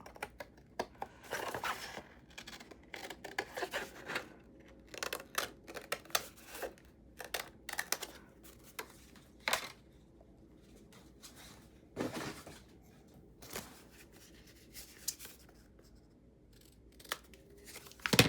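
Scissors snip through a thick paper belly band for a tag, a long run of quiet, crisp cuts in irregular bursts, close and alone with no talk.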